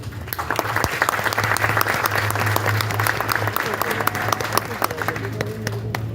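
Applause from an audience at a memorial ceremony, a dense wash of many hands clapping steadily throughout, loud and sustained, with a voice speaking over it.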